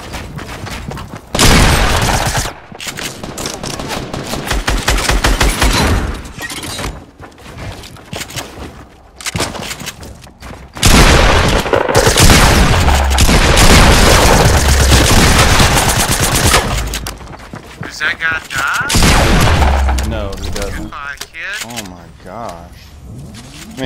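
Pump shotgun blasts in a Fortnite-style battle royale shooter, loud, repeated shots in bursts amid heavy game noise, with a player talking over the gunfire throughout.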